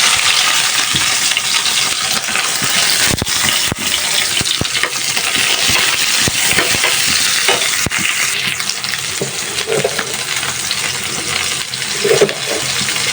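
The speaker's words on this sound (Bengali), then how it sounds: "চিংড়ি মাছ দিয়ে লাউ শাকটা বসায় দিলাম" Shrimp and bottle gourd leaves cook in a pan, giving a steady, fairly loud sizzle and frying hiss with occasional clinks and stirring noises, no voices present.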